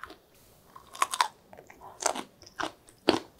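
Crisp crunching bites on a soy-sauce pickled chili pepper, several loud snaps spaced irregularly, close up, with quieter chewing between them.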